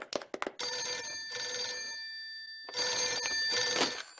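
An old-style telephone bell rings in a children's cartoon: a few short taps, then two long trilling rings separated by a pause, clear and alone.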